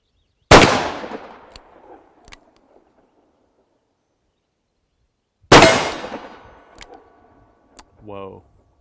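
Two loud, sharp .357 Magnum revolver shots ring out about five seconds apart outdoors over a chronograph, each with a ringing decay and faint clicks after, and a brief voice at the end.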